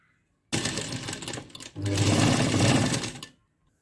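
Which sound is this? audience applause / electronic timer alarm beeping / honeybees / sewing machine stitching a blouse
sewing machine stitching a blouse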